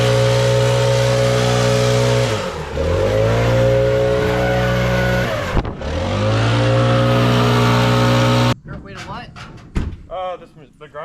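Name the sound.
stump grinder machine grinding a stump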